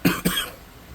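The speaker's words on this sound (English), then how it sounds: "Apparently I came back from Ohio with a bit of a cough." Two sharp coughs close together from someone nearby, loud and dry, followed by quiet room tone.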